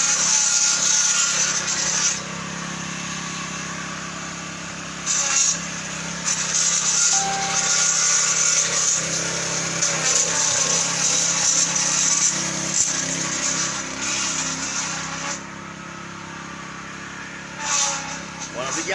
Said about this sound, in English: One of the gardeners trimming the edges